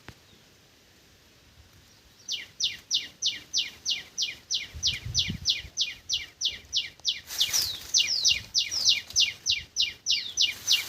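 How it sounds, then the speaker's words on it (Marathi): Birds perched in a tree chirp in a quick, regular series of sharp, bright calls after a short quiet start, continuing steadily and fairly close with no talking. "पक्ष्यांचा आवाज कसा येतो बघा. चू चू चू चू करतात."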